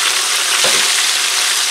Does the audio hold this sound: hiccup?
no